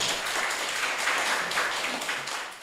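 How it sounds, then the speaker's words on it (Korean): An audience at a Korean King Sejong birthday celebration claps steadily, a dense wash of applause that holds level throughout. "우리 세종대왕께 큰 박수 부탁드리겠습니다"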